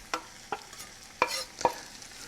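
An onion fries in a pan with faint sizzling as a utensil stirs it, making four short, sharp scraping strokes at uneven intervals.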